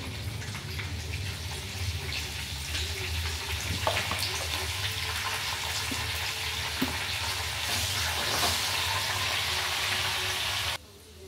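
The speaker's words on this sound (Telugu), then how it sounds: "ఇప్పుడైతే పల్లి వేగినాయి కదా, ఉల్లిగడ్డ వేస్తున్నాను" Onions and peanuts frying in oil for sambar hiss and sizzle continuously, a steady bright crackle with occasional scrapes and taps of a utensil in the pan, then cut off abruptly at the end.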